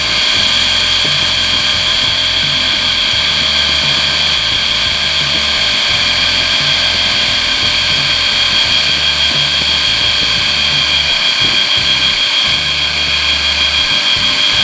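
An electric motor runs flat out at high speed through a dimmer-style speed controller, a loud, steady, high-pitched whine with a rough rattling hum underneath that never lets up.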